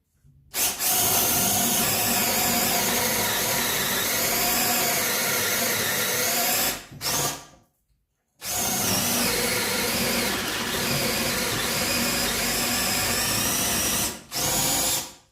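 A Parkside 12 volt cordless drill drilling wood whines loudly and continuously for several seconds, stops briefly, then runs again for another long stretch, close up.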